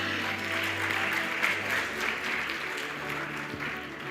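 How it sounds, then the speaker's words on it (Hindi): Sustained audience applause welcoming Shakti Dubey, the All India Rank 1 civil services exam topper, to the stage at a panel event, a steady dense clatter of many hands at moderate level throughout. "उनका भी बहुत सारी तालियों के साथ स्वागत कीजिए आप"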